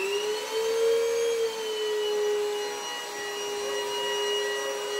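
A vacuum cleaner runs on its lowest power setting, a steady, moderately loud motor whine with a faint hum beneath and a slight pitch dip partway through, with no voices.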